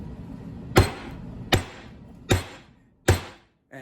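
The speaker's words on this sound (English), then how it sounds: "and hit it with a hammer." Four evenly spaced hammer blows land on wadding on a vise anvil with dull, solid thuds, each ringing briefly before fading, close and clear.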